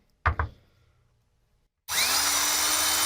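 A vintage USA-made GE portable electric drill gives two quick knocks, falls silent, then spins up abruptly into a loud, steady whine as it bores through material.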